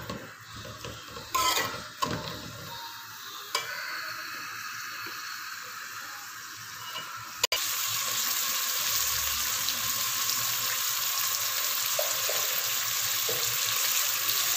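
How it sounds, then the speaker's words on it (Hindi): Onions frying in ghee in a pot give a loud, dense, continuous sizzle that swells sharply partway through and then holds steady, with a few scrapes and knocks early on. "और ये प्याज शामिल कर दूँ और अब इसको अच्छी तरह से फ्राई कर लूँ"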